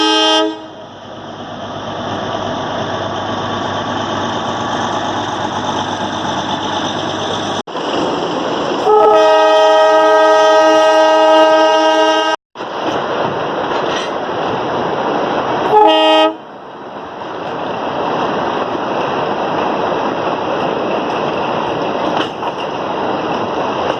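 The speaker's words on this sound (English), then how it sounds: "Darjeeling Toy Train. What makes it remarkable that it is one of the oldest running steam" The Darjeeling toy train, a heritage steam train, rumbles and clatters continuously while a loud, sustained horn blasts, cuts off, then sounds again briefly before the rolling noise resumes.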